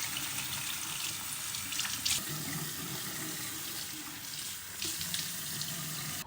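Tap water runs steadily into a sink while makeup is rinsed off the face, a continuous close hiss with small splashes as hands move under the stream, with no talk.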